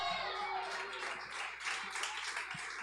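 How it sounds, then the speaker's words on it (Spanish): Applause fills a church service, a dense, steady wash of clapping from a congregation that holds at an even level throughout, with faint voices mixed underneath. "dale un aplauso a Dios"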